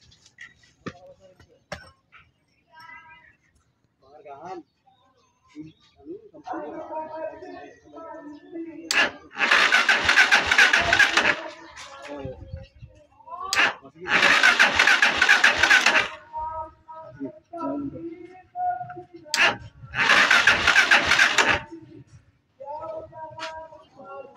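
A car engine is cranked by its starter in three long grinding bursts during a battery test, with someone talking in the gaps between attempts.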